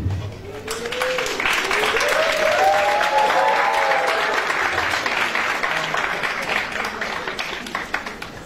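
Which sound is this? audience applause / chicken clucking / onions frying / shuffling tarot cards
audience applause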